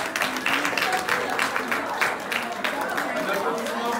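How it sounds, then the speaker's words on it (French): A school audience applauds for the 3e C class, dense steady clapping from a crowd indoors that fills the whole stretch with a bright, even patter. "que je voudrais applaudir et que tout le monde applaudisse"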